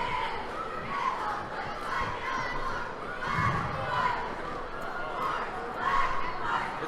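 Packed high school gym at a boys varsity basketball game, the crowd and a large cheer squad shouting and cheering in a continuous roar with rhythmic chant-like swells.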